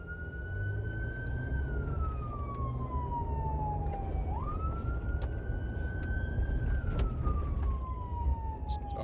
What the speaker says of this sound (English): Sirens on the whole time.